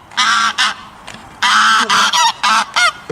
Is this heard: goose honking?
yes